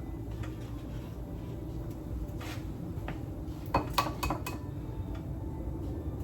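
Dishes and a bowl handled in a home kitchen while cooking eggs for chicken Parmesan waffles, a few sharp clinks and clatters of ceramic and cutlery near the end over a low steady background hum.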